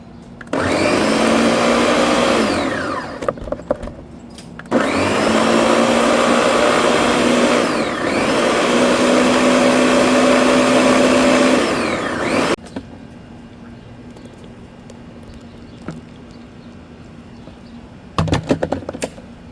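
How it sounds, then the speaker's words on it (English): A blender whirs loud and close through two long bursts as cut watermelon is blended into a moonshine mash. It runs steadily, stops briefly, then starts again, and a short final burst follows a quieter pause. "put it in a blender, mix it up"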